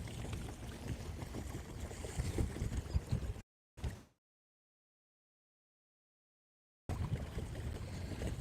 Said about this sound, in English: I got a lot of wind here this morning